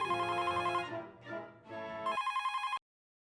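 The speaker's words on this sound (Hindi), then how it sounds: "ये कौन फोन कर रहा है?" A telephone rings in a household, a bright electronic ringtone pulsing in quick repeated trills that shifts pitch, then cuts off into silence.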